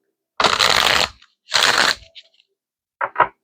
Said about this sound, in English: I'm feeling I need to shuffle that one more time.